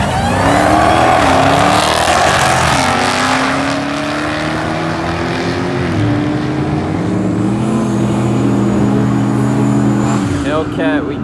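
A Dodge Hellcat launching down a drag strip, its engine roaring loud and close as it climbs through the gears with pitch rising and dropping at each shift, a voice heard over it.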